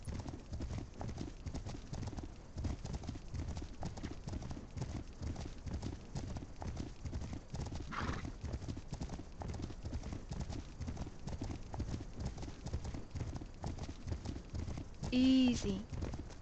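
Horse hooves cantering in the video game The Legend of Khiimori, a steady rapid clip-clop throughout under a speaking voice, with a brief whinny near the end.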